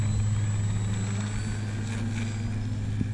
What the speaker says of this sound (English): we're gonna take up the Stinson, the Park Zone Stinson Reliant